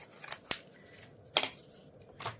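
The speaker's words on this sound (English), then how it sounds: "So I'm going to take my scissors and cut it out," A few separate snips of scissors cutting paper, close and fairly quiet, spaced with short pauses in between.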